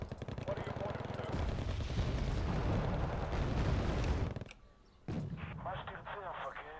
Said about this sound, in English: That's one missile out.